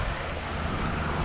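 Wind gusts buffeting a microphone outdoors near a splash pad at a desert garden shopping area in Carefree, Arizona, a steady low rumbling roar filling the whole short moment.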